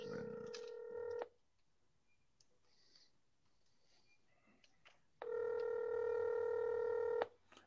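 A telephone number being dialed on a touch-tone phone: two loud, steady runs of electronic keypad tones, each about two seconds long, separated by a quiet gap with faint background noise.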